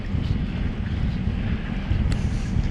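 Strong wind buffets the microphone in a constant low roar in wet Scottish weather, with no talking.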